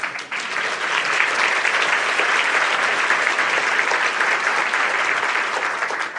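Sustained audience applause fills the room, a dense steady clatter of many hands clapping at a fairly even loud level from start to finish, with no voices breaking through.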